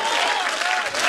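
A crowd at a Russian TV show bursts into dense, loud, continuous applause for a whole second, with some faint voices mixed into the clapping.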